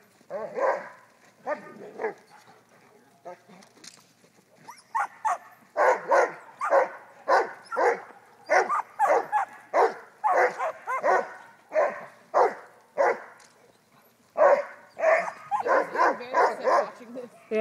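A dog herding sheep barks in rapid, repeated bursts, loud and close, with occasional yips and whines between volleys and people talking briefly in the background.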